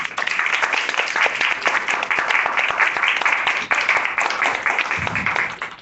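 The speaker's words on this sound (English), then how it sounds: "let's give a round of applause again to our speakers" A room full of people applauds panel speakers at a cultural institute discussion, a brisk, continuous patter of many hands clapping close by that thins out toward the end.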